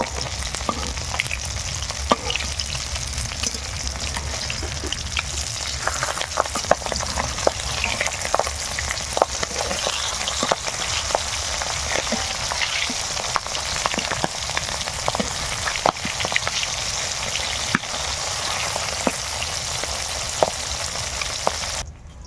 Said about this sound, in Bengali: এবার মাছগুলো আমি উল্টে নেব